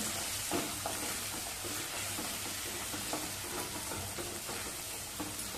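Aloo methi with red chili powder sautés in a hot pan, a steady close sizzle and crackle with occasional scraping stirs underneath.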